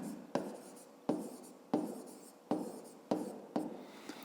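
Pen or pencil writing numbers by hand on paper while working a grade-5 math exercise, heard as six close, fairly quiet scratchy strokes, each starting sharply and trailing off, with no talk.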